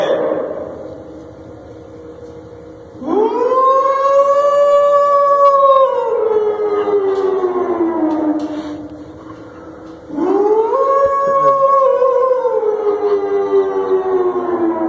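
A muezzin imitates a siren with his voice to wake people for the pre-dawn Ramadan meal, producing two loud, long wails that rise sharply, hold, and slowly fall, with a pause between them.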